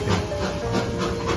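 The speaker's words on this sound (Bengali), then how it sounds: "মুগ্ধ করে দিল এই টয় ট্রেন, সেই বাঙালির ঐতিহ্য দার্জিলিং টয় ট্রেন" Darjeeling steam toy train running nearby, a steady broadband rumble with hissing steam and faint rhythmic rail clatter throughout, loud and continuous with no voices.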